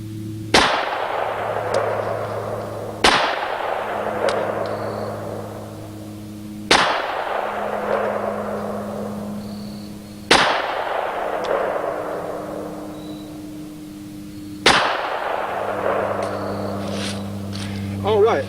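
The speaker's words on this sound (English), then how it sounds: "We'll load our gun, and we'll just leave it cocked. We'll shoot them all from the single action position." A single-action revolver, fired cocked from the single-action position at a target 15 yards away, lets off five loud, booming shots a few seconds apart, each followed by a decaying ring and a low steady hum between them.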